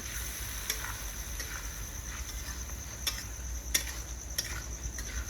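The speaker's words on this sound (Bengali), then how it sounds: "এটাকে ভালো করে ভেজে নেবো" A paste of ginger, garlic, onion, cashew and raisin fries quietly in a pan, giving a faint, steady sizzle broken by occasional sharp clicks of a utensil.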